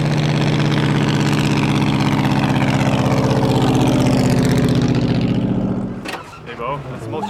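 Vintage Ford Thunderbird race car, the "Battlebird," its loud engine running roughly with a steady rumbling drone for about six seconds, then cutting out and falling quiet, followed by faint clatter.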